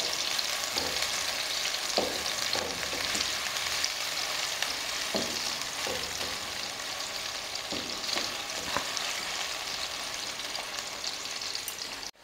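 Onions frying in a pan with mustard seeds for a Punjabi dal wadiyan curry, a steady broadband sizzle throughout with occasional soft stirring scrapes, close and continuous with no voices.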